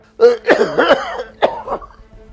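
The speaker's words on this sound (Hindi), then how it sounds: "अरे बेटा मेरी तबीयत खराब है, खांसी रुकी नहीं रही।" An unwell elderly man coughs in a few harsh, close, throaty bursts, a rough cluster followed by a shorter second fit.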